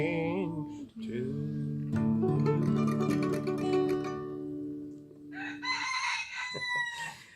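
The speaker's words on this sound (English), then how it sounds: "Looks like the roosters are joining in too" Roosters crow loudly and repeatedly at a live bluegrass music session, their drawn-out calls overlapping sustained instrumental tones.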